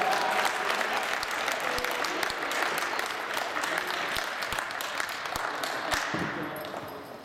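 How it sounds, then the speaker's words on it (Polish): Applause at the award ceremony of an indoor St Nicholas football tournament in Siemiatycze, hailing the winning team: a crowd claps steadily and densely for about seven seconds, then thins out and fades toward the end. "Wielkie brawa."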